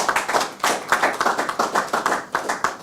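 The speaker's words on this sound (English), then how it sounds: "she deserves another round of applause for" Applause at a Code of Ethics signing ceremony: a small group claps in irregular bursts for a committee chair, the claps close and fairly loud, with no talk over them.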